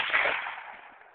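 A single shot from a Russian SKS rifle cracks outdoors, its muffled report trailing off into a short fading echo.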